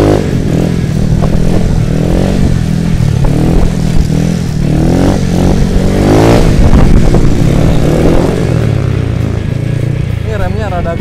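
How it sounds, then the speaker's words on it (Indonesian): A motorcycle ridden in circles, rising and falling through loud revs with the engine climbing and dropping repeatedly, close up, with a voice talking at times over it. "Saya mau motor-motoran dulu aja guys,"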